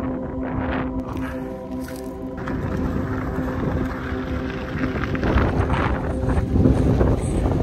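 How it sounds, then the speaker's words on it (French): A strong gust of wind sweeping across a mountainside beneath Cerro Pico Negro, a broad rushing roar buffeting the microphone and building louder toward the end, with no voices. "quand j'ai une poussée de vent, c'est vraiment impressionnant."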